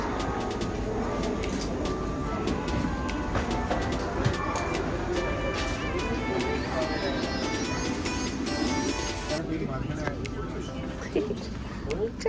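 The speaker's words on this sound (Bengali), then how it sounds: "ঠিক যে টাইমে ট্রেনটা ছাড়ার কথা ছিল একদম পারফেক্ট টাইমেই ট্রেনটা ছেড়ে দিয়েছে" Vande Bharat Express train pulling out and running, a steady, loud rolling rumble with rattling that continues throughout, with people talking over it.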